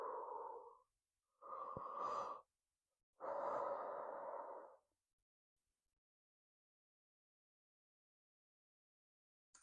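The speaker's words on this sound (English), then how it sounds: "Continuing with those deep breaths here." Slow, deep breaths during a lymphatic-flow exercise routine: three long breath sounds, close and soft, with quiet gaps between them, then silence.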